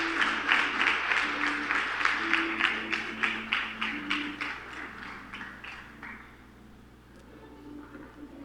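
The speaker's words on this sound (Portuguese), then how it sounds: "Você pode aplaudir a Ele." Church congregation at a Sunday service applauding, a rhythmic pattern of roughly unison claps at a steady pulse that fades after several seconds, with a low sustained hum and faint tones underneath.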